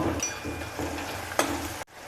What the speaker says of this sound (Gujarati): આ લીલું લસણ કટિંગ કરેલું છે તેને એડ કરશું તેને પણ આપણે બે મિનિટ સારી રીતે સતળાવા દેશું